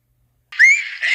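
A short rising-and-falling whistle tune, a radio advertisement whistle, starts after a half-second of silence, bright and clear, with no talking.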